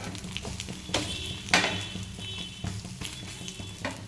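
Bread slices frying in a pan with egg, giving a soft, steady sizzle broken by several sharp scraping and clinking bursts of a utensil against the pan, close and fairly quiet.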